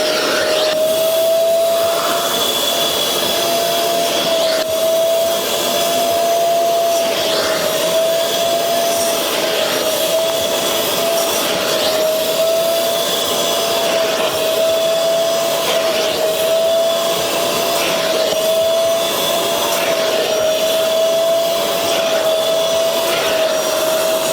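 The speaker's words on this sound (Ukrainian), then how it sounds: "Після цього потрібно нам оцю всю рідину зібрати. Тут ми використовуємо вже пилосос." A vacuum cleaner extracting cleaning liquid during upholstery dry cleaning runs loud and steady with a constant high whine and a rushing airflow, uninterrupted throughout.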